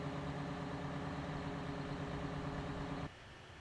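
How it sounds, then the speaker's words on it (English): A Big Bud tractor engine idles in Farming Simulator 17, a dense, steady low diesel rumble that holds at a constant level and then abruptly drops to a quieter hum near the end. "It's the biggest tractor"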